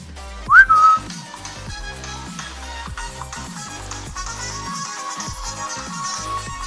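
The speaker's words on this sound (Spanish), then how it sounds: "Entonces vamos a proceder a silbar." A person whistles a short rising note, then a melodic tune carries on steadily over a backing of music with rhythmic beats.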